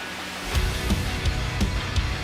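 A song's chorus bursts in with a massive low impact after a brief build, followed by a wash of cymbal crashes and dense, full-band music pulsing in a steady beat.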